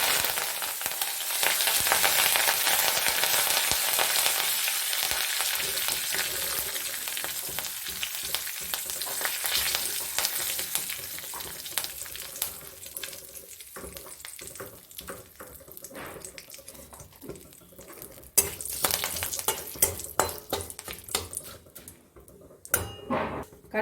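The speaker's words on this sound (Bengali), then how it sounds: "কারি পাতাগুলো ভাজা হয়ে গেছে" Curry leaves fry in hot oil with a loud, crackling sizzle that gradually settles into intermittent pops and spatters, with occasional stirring clatter toward the end.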